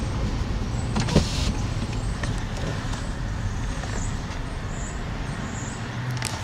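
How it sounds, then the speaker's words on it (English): A 2013 Smart Electric Drive Gen 2 drives with its window rolled down, its electric motor giving a faint steady whine beneath road and wind noise. "So you can hear the motor a little bit. Yeah, just a little nice bit electric whizzing sound."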